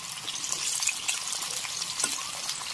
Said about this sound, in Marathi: आपण कांदा तळलेल्या तेलामध्ये हे चिकनचे पीस तळतोय